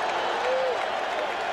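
Baseball crowd at a New York Mets World Series game against the Boston Red Sox, a steady wash of cheering and applause under a broadcaster's voice.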